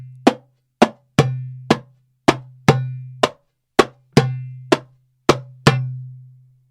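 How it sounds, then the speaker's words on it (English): Darbuka playing the Malfuf 1 rhythm with a slap: sharp, ringing strikes in an even repeating pattern, each with a deep resonant tail, close and clear with no talking. "Malfuf 1 can also be played with a slap."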